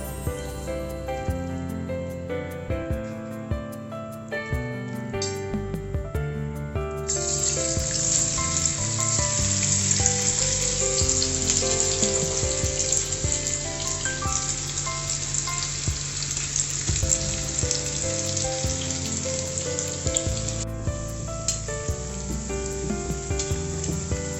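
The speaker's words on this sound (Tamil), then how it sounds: "இப்போ வந்து நம்ம இது நல்லா ஃப்ரை பண்ணி எடுத்துடலாம் மொறுன்னு" Marinated pakoda deep frying in hot oil over a medium flame: a dense, steady sizzle that swells loudly after a quieter start and carries on without a break.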